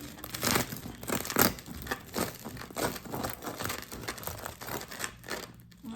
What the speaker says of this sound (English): I'm gonna cut up myself another slice